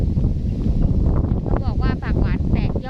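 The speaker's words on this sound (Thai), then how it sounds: "วันนี้ลมดีมากเลย" Wind gusts steadily across an open field near a forest edge, a constant broad rush on the microphone, and someone talks over it partway through.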